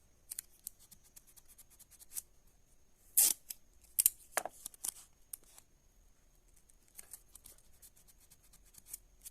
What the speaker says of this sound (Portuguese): E o excesso vai ser cortado com uma tesoura.